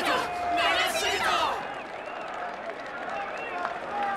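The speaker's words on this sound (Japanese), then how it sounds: "盛大な拍手と喝采を。" Crowd applause and cheering rise in a burst over the first second and a half in the video game Honkai Star Rail, then fade to a softer murmur of festive ambience and music.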